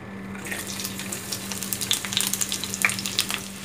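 Chopped onion going into hot oil, starting as a soft background hiss and then rising into a busy, close crackling sizzle with sharp pops. No one speaks.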